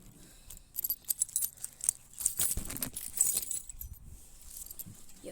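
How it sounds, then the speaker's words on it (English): Keys jangling in a prison cell setting, a series of bright metallic jingles and clinks coming in irregular bursts, moderately close, with no talking. "I swear I heard keys"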